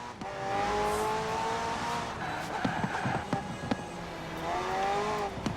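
A McLaren P1 with a twin-turbo V8 and electric assist revs and accelerates in Forza Horizon 4, rising engine tones with sharp shift blips and pops, loud and close, under a narrating voice.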